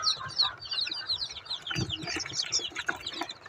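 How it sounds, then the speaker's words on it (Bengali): Young chicks kept alongside a quail chick cheep and cluck in a busy cluster of high chirps, constant and close, with light rustling beneath and no talk. "এই যে এইখানে আছে আমার মুরগির বাচ্চা"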